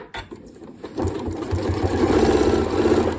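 A Janome Horizon Memory Craft 9480 QC sewing machine stitches during ruler quilting, starting with a few short bursts and then running into a steady, close, rapid mechanical whir.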